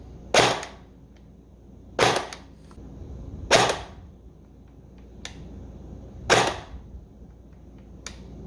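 APS UAR bullpup airsoft gun fired at max power, five sharp, loud single cracks spaced irregularly about one to two seconds apart against a quiet background.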